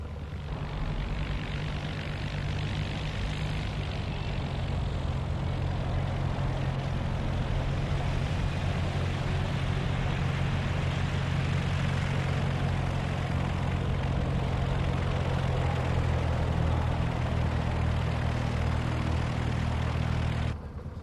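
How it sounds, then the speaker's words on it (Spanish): Light propeller airplane idling on the ground before takeoff, a loud, continuous engine drone with a steady low throb and broadband roar, unchanging throughout with no speech. "El avión ya está listo para despegar."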